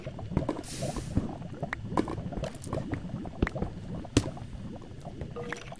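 Bubbling, gurgling flowing water in Minecraft plays steadily throughout, with small pops and splashy transients scattered across it and no voices.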